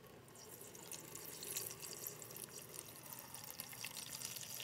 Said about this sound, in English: So let's go ahead and pour some more water.